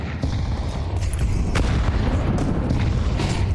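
HE grenades go off during a Counter-Strike esports match in an ESL Challenger League game, giving a dense, loud, booming rumble with a couple of sharper blasts and no talk.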